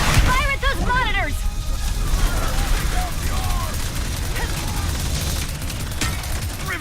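Weapon fire in the Ratchet & Clank Rift Apart video game, dense bursts of blasts and sci-fi shots over a busy battle soundscape, with characters talking loudly at the start.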